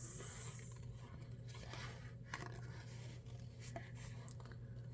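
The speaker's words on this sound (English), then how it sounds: "as you close the scissors, you just, you know, turn and wiggle the paper." Scissors fussy-cut around a paper craft piece for a Paper Pumpkin card project, giving faint repeated snips and rustling scrapes of paper against a low steady hum, with no talking.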